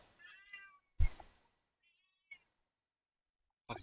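Close, clear cat meows come in short separate calls with quiet gaps between them, followed by a sharp knock or thump.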